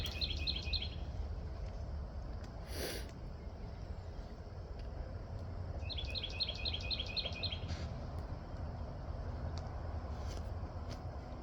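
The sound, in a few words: bird chirping outdoors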